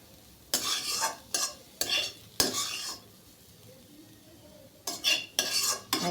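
Fried papaya being stirred into milk in a pot, with several short bursts of a spoon scraping and clinking against metal, separated by quiet gaps, close and fairly faint.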